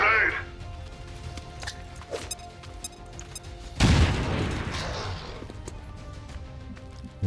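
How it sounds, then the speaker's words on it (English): Grenade going off in XCOM 2 Long War of the Chosen, a sudden heavy boom midway that decays slowly, preceded by quieter clicks and small impacts, with someone talking over the game sounds. "Grenade."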